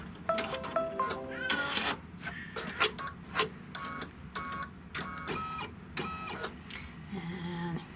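Embroidery machine stitching placement lines on quilt fabric, a mechanical whirring chatter with quick rhythmic needle clicks and short whining bursts, close and moderately loud, with a voice faintly underneath.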